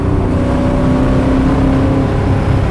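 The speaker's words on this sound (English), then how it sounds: "That's got quite a note to it. Quite an engine note." An original Maserati Ghibli sports car engine drones loudly and steadily at close range, holding a sustained throaty note while driving through a tunnel, with no talk over it.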